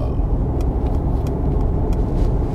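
Mercedes G580 EQ, a three-tonne electric SUV, accelerating hard; a steady, loud broadband road and cabin rumble holds throughout, with no speech.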